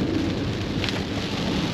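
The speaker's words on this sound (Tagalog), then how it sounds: "Oh, grabe yung lakas ng ulan," Heavy rain pours down in a dense, loud, continuous roar of drops drumming on surfaces, with no break across the short stretch.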